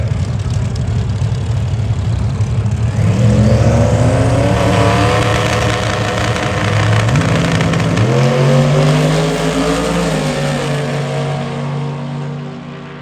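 A Corvette and a Ford F-150 drag race at Truck Fest at Xtreme Raceway Park, loud engines rumbling at the line, then roaring through rising gear pulls with a shift before fading into the distance.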